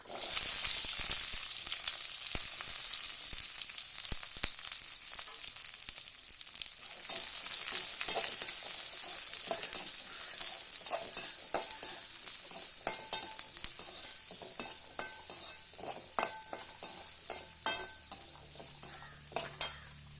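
Onions, curry leaves and a dried red chilli sizzle steadily in hot oil in a pan for a Kerala-style perettu dish, with a continuous bright crackle and occasional stirring scrapes and clinks, no talking.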